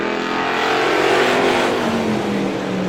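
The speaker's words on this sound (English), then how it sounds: "Green flag in the air. Heat race number 2 back underway." A pack of race cars accelerates off the green flag at the start of a speedway heat race, a loud, dense engine roar with rising pitch that sweeps past at full volume.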